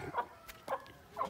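Soft, quiet clucking from a few chickens, short calls spaced out over a moment, fairly close with a faint background hiss.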